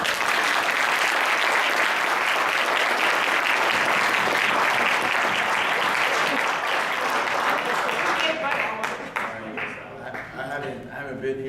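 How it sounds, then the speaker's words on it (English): An audience applauds coaches at a gathering, dense sustained clapping that holds loud for about eight seconds, then thins into scattered claps as it fades. "So let's give a round of applause."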